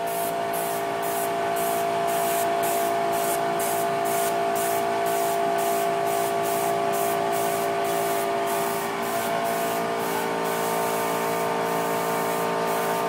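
An airbrush fed by a compressor sprays paint onto a sandblasted sign as a steady close hiss, pulsing in short regular bursts over a constant compressor hum, with no talking.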